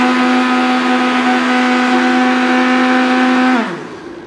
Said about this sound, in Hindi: ये देखें अब हम इसको ग्राइंड कीजिए